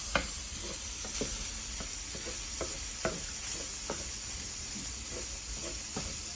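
Sausage browns in a pan with a constant faint sizzle and hiss, broken by scattered soft clicks and scrapes of stirring.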